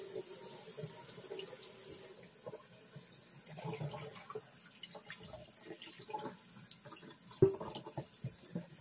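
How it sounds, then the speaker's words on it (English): Cold tap water runs over a whole duck being rinsed in a kitchen sink, a soft, uneven splashing and trickling that shifts as the bird is moved, with a sharper splash near the end. "Now I'm going to rinse it very well with cold water."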